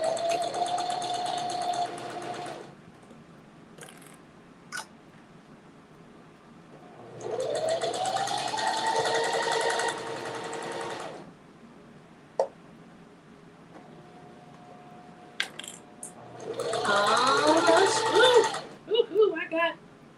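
A sewing machine stitching a custom-size hanging fabric basket, running in three long steady bursts of rapid mechanical whirring separated by quiet pauses and small clicks, close up with no talk over it.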